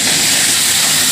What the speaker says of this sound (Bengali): এবার আলুটা একটু ভেজে নেবো।